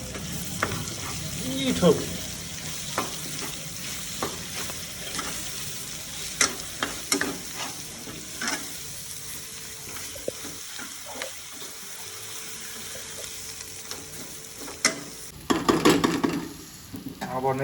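Ginger and garlic paste frying in a pan for dal bhat, a busy sizzle with repeated stirring scrapes and clatters, close up, while someone talks briefly over it.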